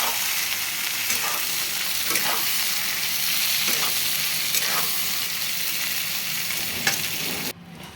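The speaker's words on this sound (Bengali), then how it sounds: "পেঁয়াজটা তেলে দিয়ে দিলাম, একটু ভেজে নেব।" Onions frying in oil in a pan make a loud, continuous close sizzle with occasional stirring scrapes, then cut off abruptly at the end.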